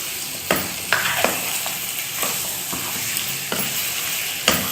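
Spices sizzle steadily in a pan for khoya korma, with several sharp scraping stirs breaking through the continuous frying hiss, close and fairly loud.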